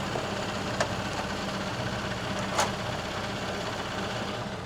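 Steady low idle of a rebuilt car engine fitted with an SU carburettor and a different cam, a continuous even rumble with two faint brief clicks, no talking.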